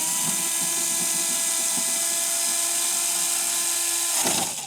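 A power drill driving screws during a studio rebuild gives a steady high whine for about four seconds, then stops abruptly.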